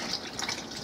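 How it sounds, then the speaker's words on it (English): Milk poured into a bowl of waffle batter ingredients, a brief, steady liquid gush close by with no talking. "Pour in your oil and your milk."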